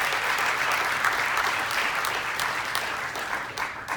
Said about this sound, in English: let's give them a quick round of applause to Randy and Doug and David